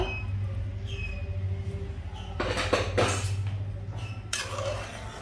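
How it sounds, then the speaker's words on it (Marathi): The metal lid comes off a pressure cooker after three whistles, with clanking and scraping of metal pots and utensils in bursts over a low background hum, close by. "झाकण काढते कुकरचं"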